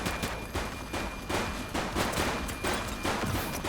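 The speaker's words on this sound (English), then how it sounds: "Shots fired!" Rapid gunfire in the police game The Precinct crackles in repeated bursts, loud sharp volleys rattling out every half second or so with a dense, echoing edge.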